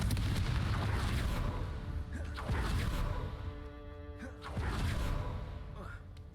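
The Confringo blasting spell from Hogwarts Legacy goes off as a series of booming blasts and crashes with whooshing tails, loud and close, over a low, rumbling game background while a voice speaks.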